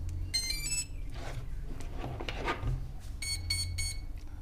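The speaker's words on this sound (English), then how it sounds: "Three beeps, one long beep" An electronic speed controller on a Tarot hexacopter emits beeps in short tonal groups near the start and end of the clip during throttle range calibration. Faint rustling and handling noise fills the quieter middle.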